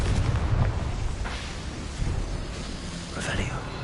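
A Confringo fire spell blasts in Hogwarts Legacy, a booming burst with rumbling low end and a crackling tail, under a steady bed of game ambience and a brief bright flare near the end.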